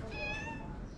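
A street cat meows in the medina of Hammamet, Tunisia, a single drawn-out call, close and clear over low outdoor background noise.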